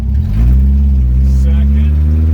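A Datsun 1200 pickup's engine pulls loudly in first gear, a steady low drone with harmonics that step up in pitch as revs climb, and a voice speaks briefly over it.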